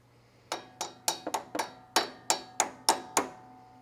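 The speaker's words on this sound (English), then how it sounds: "Hit it with a hammer." Ten sharp metallic hammer strikes on the starter of a 1978 Sears GT18 tractor, in an uneven rhythm, close and fairly loud, over a low steady hum.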